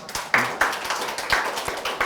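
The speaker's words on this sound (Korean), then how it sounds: "박수 한번 합시다." A few sparse, separate hand claps during a church webinar on family worship, quiet and slightly distant, with no talking over them.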